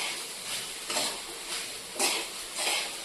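A spoon stirs sabudana khichdi mixed with crushed peanut powder in a pan, giving soft repeated scraping strokes with a faint sizzle, close and fairly quiet, with no voices.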